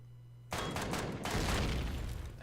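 Rapid bursts of video game gunfire from E.G.S. multiplayer during a fortress attack, starting abruptly after a brief near-silence and then continuing loud and dense with overlapping shots to the end.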